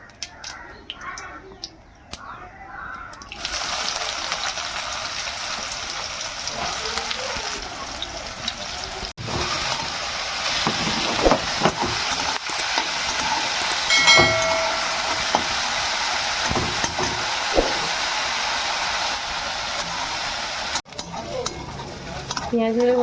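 Chopped onions hitting hot refined oil tempered with cumin seeds, a steady loud sizzle and frying hiss with occasional stirring scrapes, continuous for most of the clip after a short quiet start.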